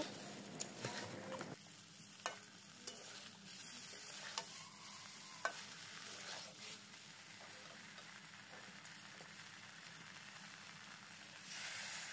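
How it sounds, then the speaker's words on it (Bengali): Fried brinjal and potato stirred in a hot pan, with a steady close sizzle and a few sharp scrapes and knocks of the spatula against the pan. No one speaks. "ভেজে রাখা বেগুন ও আলু দিয়ে খুব ভালো মতো নাড়িয়ে নেব।"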